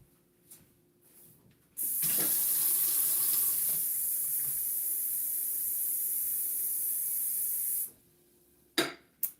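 Water from a kitchen tap gushes steadily into a pot for about six seconds, a loud continuous hiss with a brief clatter just before and after.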